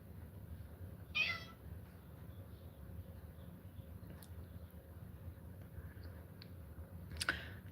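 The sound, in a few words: cat meowing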